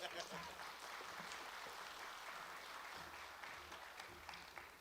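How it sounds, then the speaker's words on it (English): Crowd applause at a tribal health board gathering, a sustained, even patter of many hands clapping, fairly faint and distant, running throughout with a few faint voices mixed in. "Big round of applause."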